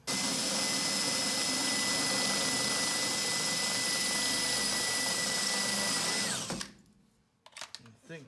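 A drill fitted with a spot weld cutter bit bores around a spot weld on the body of a 1965 Chevy Sportvan under restoration, giving a loud, steady high whine for about six seconds before spinning down and stopping.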